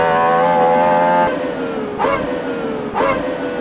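GMA T50 road car engine screaming at high revs, held steady then dropping with two sharp upshift-like rev bursts as it runs over the curbs at the Nürburgring, loud and close with no talk.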